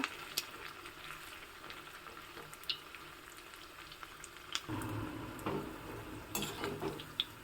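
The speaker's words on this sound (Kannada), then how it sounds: "ಬೋಂಡ ರೆಡಿಯಾಗಿದೆ ಎಣ್ಣೆಯಿಂದ ತೆಗಿತಾ ಇದ್ದೀನಿ ಇದೇ ರೀತಿಯಲ್ಲಿ ನಾನು ಅಷ್ಟು ಹಿಟ್ಟಿನಲ್ಲಿ ಬೋಂಡವನ್ನು ಕರಿತಾ ಇದ್ದೀನಿ" Bonda, a fried snack made from dosa batter, sizzling in hot oil in a home kitchen: a steady, quiet crackle with occasional clicks of a utensil turning and lifting the pieces, with no talking.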